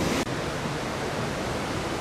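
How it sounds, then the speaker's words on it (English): A river waterfall roars steadily, a dense, unbroken rush of water that fills the whole clip evenly and loudly. "Made it to the waterfalls."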